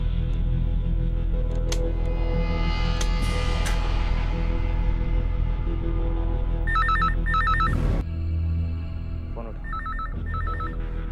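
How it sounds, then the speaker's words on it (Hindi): A telephone rings in short repeated trilling bursts over a steady drone, the rings pausing and then resuming. "चल फोन उठा। चल चल चल उठ, फोन उठा।"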